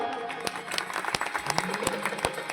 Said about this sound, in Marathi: टाळ्या वाजवा.